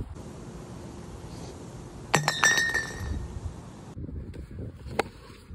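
A drinking glass shatters with a sharp crash and a bright spray of tinkling shards, followed by a few scattered clinks a couple of seconds later over quiet outdoor background noise.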